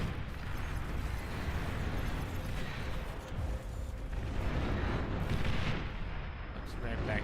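Catapults firing at will in the real-time strategy game Beyond All Reason, a continuous rumble of booming launches and distant impacts rolling over one another at steady loudness, with no voices.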